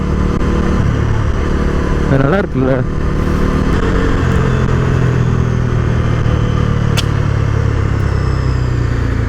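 A Bajaj Dominar 250 motorcycle engine runs loudly close by with a brief rev, a faint high whistle riding over the exhaust roar; someone speaks briefly.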